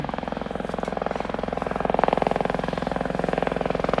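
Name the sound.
police helicopter hovering over a house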